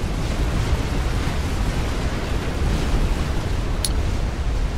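Massive rumbling explosion of a battleship in the strategy game Forged Alliance Forever, a dense, continuous low roar filling the whole stretch, with a brief sharp crackle near the end.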